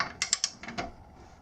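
A torque wrench ratchets on the rear wheel axle of an Empulse TT motorcycle, giving three quick close clicks followed by a softer few, then quiet.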